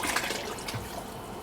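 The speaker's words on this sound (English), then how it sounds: "Rinse the pan." Water pours and swishes steadily through a pan as it is rinsed into a pot of veal stock, a continuous close splashing for a second and a half with no talking.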